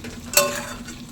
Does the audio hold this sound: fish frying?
yes